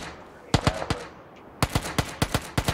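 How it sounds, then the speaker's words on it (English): Rapid gunfire in PUBG in two bursts: a few sharp shots, a short pause, then a longer string of loud evenly spaced shots. "Is that gunfire aimed at us?"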